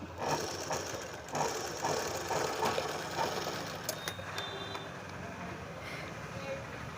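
A sewing machine stitches an off-shoulder collar onto a dress, running in a continuous, rhythmic mechanical whir at moderate volume from start to finish.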